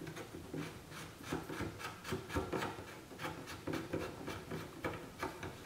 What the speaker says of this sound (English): where this magazine cap and stacking rod is you unscrew this